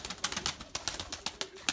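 Pigeons at a home loft give a rapid string of short, sharp bursts in an uneven rhythm, close by and moderately loud, with no voices over them.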